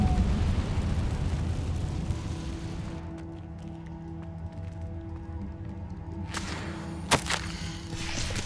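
An Incendio fire spell is cast in the video game Hogwarts Legacy, heard as a sharp whooshing burst that flares up over a steady ambient hum, followed by a brief crackling swell, with no talk.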